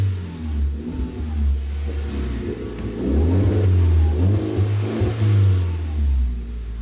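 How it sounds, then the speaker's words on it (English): A car engine with a holed exhaust silencer pipe runs loud and rough just after starting, a deep rumbling drone with uneven pulsing swells, close and steady throughout. "after starting the car, my car is making loud sound here"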